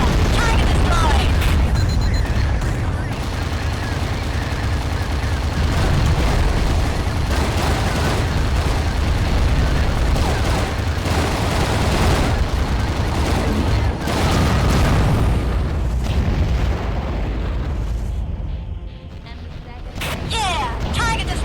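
Repeated explosions of destroyed targets in the underwater combat game AquaNox form a sustained barrage of booming blasts and crackling bursts over loud engine noise, easing briefly near the end before resuming.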